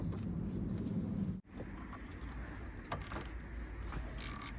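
Toyota Auris battery negative terminal being worked loose with a wrench: scattered metallic clicks and ratcheting over a steady low engine-bay hum, with one sharp break in the background noise near the start.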